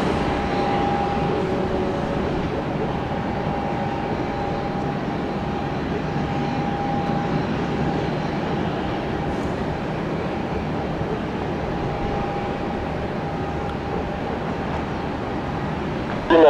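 An airliner on takeoff roll from runway 1 right at Tampa International, a steady, broad engine roar heard from a distance with a faint tonal whine, constant throughout.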